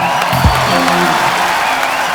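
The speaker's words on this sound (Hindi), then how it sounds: "के लिए जोरदार तालियां।" Loud applause from a crowd, dense continuous clapping mixed with some cheering and whoops throughout.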